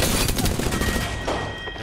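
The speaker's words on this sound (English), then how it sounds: "Grenade." Grenade exploding in the video game Apex Legends, a loud dense blast with rapid crackling gunfire layered over it, sustained and close.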